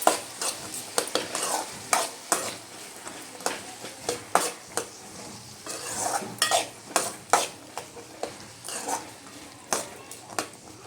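Chopped tomatoes fry in a pan for North Karnataka style avarekalu palya, with a soft sizzle under repeated sharp scrapes and clinks of a spoon stirring, close and rhythmic throughout.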